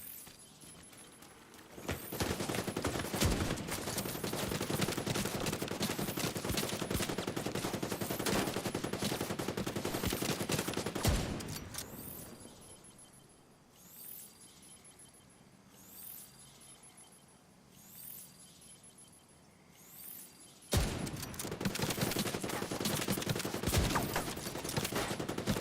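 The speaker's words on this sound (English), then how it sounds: "their bullets are traveling towards me, but they're shooting in a completely different direction" Heavy video-game gunfire in bursts of rapid automatic fire with dense, close shots, easing off into sparse distant pops and lighter ambience mid-way before the loud firing resumes near the end.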